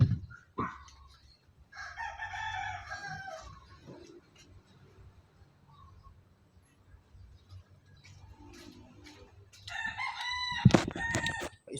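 Chickens and a rooster in a chicken coop: a loud crow near the start and another near the end, with scattered clucks and rustling in between, close by and without talk.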